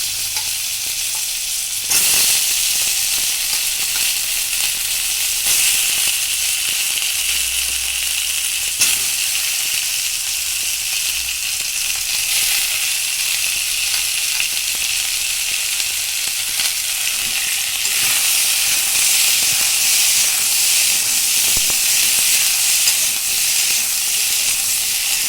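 Potatoes and onions sizzle loudly and continuously in hot oil in a kitchen pan while frying for a Bengali fish curry, a dense steady hiss with a few stirring bumps and no voices.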